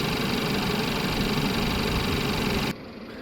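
2-liter turbo engine of a 2016 Mercedes-Benz C300, previously in a front-end collision, idling with a steady dense hum and rumble that cuts off abruptly near the end, leaving quieter background.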